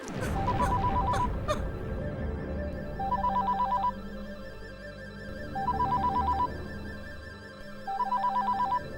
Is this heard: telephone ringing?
yes